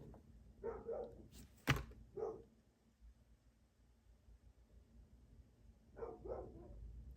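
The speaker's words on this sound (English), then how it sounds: "Sorry, my dogs are barking." Pet dogs barking indoors, a few sharp barks in short bursts at the start and again near the end, moderately close and separated by a quiet stretch, with no talking.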